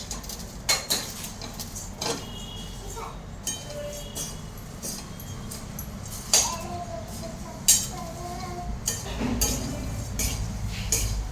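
Puffed rice chivda is scraped and tipped from a pan into a vessel, with scattered metallic clinks and knocks of utensils against cookware over a soft rustle, a few louder strikes standing out, and a voice speaking briefly.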